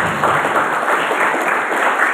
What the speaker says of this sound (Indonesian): Tepuk tangan untuk tampil kita.